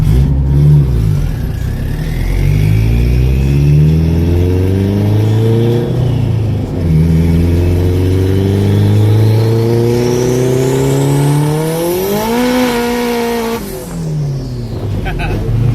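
A tuned 700 hp Honda S2000 race car engine revs hard, its pitch climbing and dropping through several surges before a final high scream that cuts off, loud and close.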